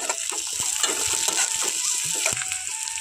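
Slit green chillies frying in a pan for a Bengali bitter gourd and potato fry give a steady, close sizzle with a few clinks of a spatula stirring through the oil.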